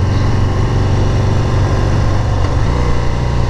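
A 2019 Harley-Davidson FXDR engine runs loud and steady, a close, constant low rumble that holds for the whole stretch with no talk.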